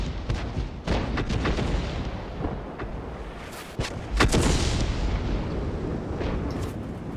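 Tank cannon fire in the World of Tanks video game: several loud booming shots with rumbling tails, one heavy blast standing out near the middle, amid continuous battle noise.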